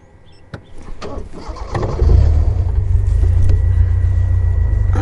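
A safari vehicle's engine rumbles up loudly and steadily after a few clicks and clunks as it is shifted into low range, close and dominant throughout.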